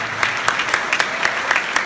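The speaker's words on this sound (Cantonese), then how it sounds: "咁俾啲掌聲自己同埋身邊我哋所有嘅新世界師傅" An audience at a construction company's appreciation dinner claps steadily, a dense even wash of hands with faint voices underneath, lasting just under two seconds.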